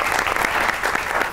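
Studio audience on a comedy talk show claps loudly for a guest, a brisk, close burst of many hands that fills the short moment.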